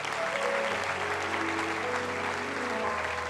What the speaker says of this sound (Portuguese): Se é para Jesus, aplauda.